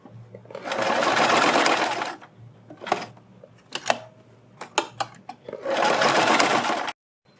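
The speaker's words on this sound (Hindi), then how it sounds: "इस तरह से आप बराबर इसको मोड़ते जाएं और इसके ऊपर सिलाई लगाते जाएं" A sewing machine stitches a folded fabric neckline strip in two loud, close runs of rapid whirring, separated by a pause filled with clicks and handling of the cloth.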